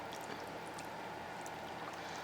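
Milk, one and a half cups, is poured into a mixing bowl of vegetables for a cheesy chicken casserole, a soft, continuous liquid splashing and gurgling heard close up with no talking.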